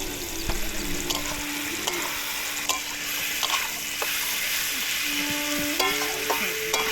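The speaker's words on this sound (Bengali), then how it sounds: "পেঁয়াজ রসুন টমেটোর সাথে মাংসটা বেশ সুন্দর ভাজা হতে হতে" Boiled meat pieces frying in a pan with onion, garlic and tomato, with a steady sizzle under frequent scraping and clinking of a spatula as they are stirred, close and fairly loud.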